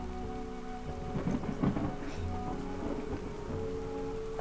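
Heavy rain pours steadily with rolling thunder rumbling through it, a dense continuous wash of sound with no voices.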